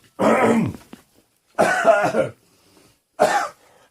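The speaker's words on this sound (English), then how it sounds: "sorry for the coughing" A person coughs in three separate bursts, the first two harsh and drawn out, the last shorter, with quiet pauses between them.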